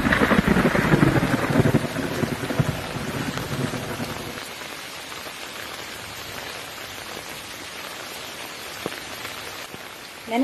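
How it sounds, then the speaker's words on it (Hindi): Steady rain falls on a surface, starting heavy and dense, then easing to a softer continuous patter, with a sharper sound near the end and no speech. "आज हो रही है बारिश"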